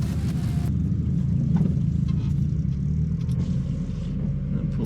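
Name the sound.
Mazda Miata car pulling in to park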